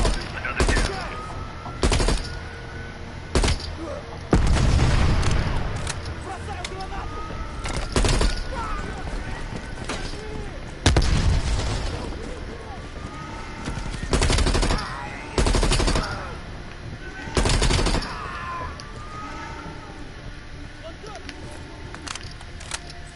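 Video game gunfire aimed at bad guys, loud bursts of rapid shots repeating in clusters every second or two, with a voice talking between them.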